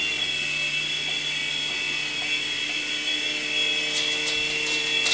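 A small RC helicopter, the Protocol Tracer Jet 3.5-channel model, hovers nearby with a steady high-pitched electric motor whine and rotor buzz, holding an even tone throughout.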